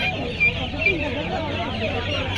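Chickens cluck at the Uluberia poultry market, a dense low chatter of hens mixed with crowd noise and voices talking throughout the short moment.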